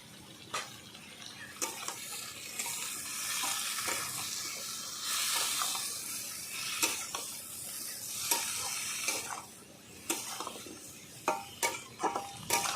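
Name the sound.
sautéing spices with salt and turmeric in a pan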